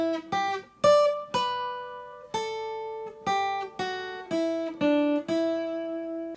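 Guitar picking a song's lead line slowly, a string of distinct single plucked notes in an unhurried rhythm, each ringing briefly before the next; close and clean with no talking.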